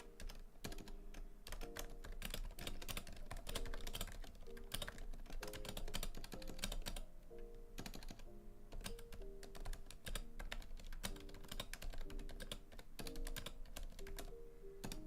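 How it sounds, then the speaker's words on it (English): Continuous clicky typing on a computer keyboard by someone with an unconventional technique, steady and fairly quiet, layered over music playing throughout. "If my typing sounds weird, I don't know how to type like a normal person."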